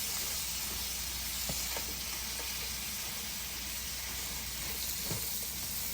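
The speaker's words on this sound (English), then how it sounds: "We're going to allow the onions and mushrooms to continue sauteing for about a minute or until they break down." Mushrooms, onions and garlic sauté in a pan for smothered pork chops, giving a steady close sizzle and hiss with a few faint stirring clicks.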